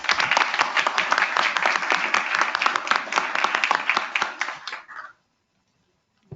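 A meeting audience claps in dense, fairly loud applause for about five seconds, then it stops abruptly into silence.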